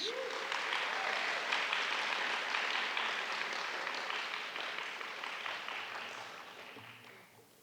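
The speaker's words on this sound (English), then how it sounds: "One more round of applause." An audience at the close of a design lecture applauds, a dense clapping wash that holds steady and then slowly fades over several seconds; no voices stand out.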